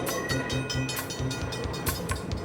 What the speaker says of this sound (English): Here we come to a railroad crossing where the train crosses the road.